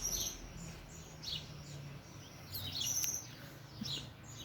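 Small birds sing and chirp at dawn in a backyard, scattered high tweets and short trills coming and going at moderate distance over a faint, steady background hush.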